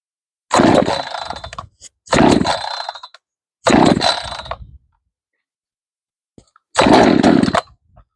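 A professional-grade chainsaw engine is pull-started four times, each attempt a loud, sputtering roar that catches for a second or so before cutting out, with brief silences between.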